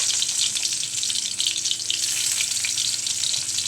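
Onions fry in hot oil in a karai pan as a home cook starts a fish stir-fry, a loud, steady, bright sizzle that holds throughout with no talking.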